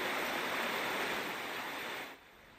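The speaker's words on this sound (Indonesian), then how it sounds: "Banjir akibat luapan Sungai Ciasem masih deras mengalir." Swift floodwater from the overflowing Ciasem River rushes in a steady, loud broadband roar with no talk, easing slightly near the end.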